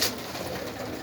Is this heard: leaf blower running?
no